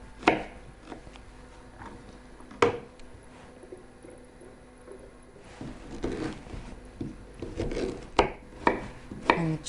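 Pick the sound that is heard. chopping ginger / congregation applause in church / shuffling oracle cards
chopping ginger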